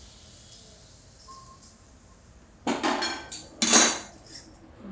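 Metal utensils clatter against a kadhai as hot oil is mixed into flour, with two louder bursts of scraping and clinking close by between quieter, sparse taps.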